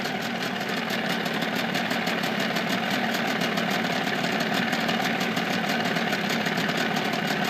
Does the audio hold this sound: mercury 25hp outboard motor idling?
yes